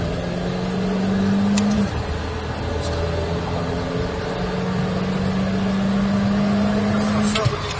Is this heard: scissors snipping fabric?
no